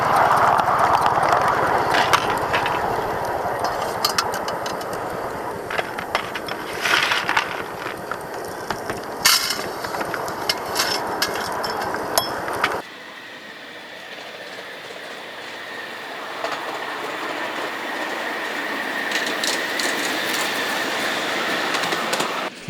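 A small live-steam locomotive burning local coal chuffs and clanks steadily throughout, loud and close at first, then a little quieter and more even in the second half.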